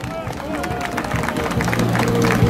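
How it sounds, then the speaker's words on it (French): Rally crowd of yellow-vest protesters and union supporters breaking into applause, a dense clapping roar that builds and swells louder toward the end, mixed with crowd babble. "Donc j'aimerais qu'on les applaudisse d'être venus."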